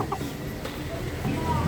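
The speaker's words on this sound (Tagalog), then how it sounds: "Mga manok-manok." Chickens cluck in short bursts close by, with low background noise and a faint murmur of activity.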